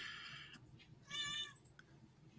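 A cat meows near its cat tower indoors, a faint pair of drawn-out meows with a brief chirp, quiet and alone with no talk.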